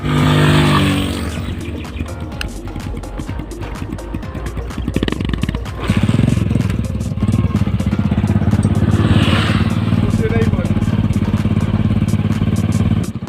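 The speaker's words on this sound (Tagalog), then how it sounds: "subukan natin tong motor" A motorcycle engine runs steadily up close, its low throaty rumble swelling louder partway through, with occasional mechanical clatter.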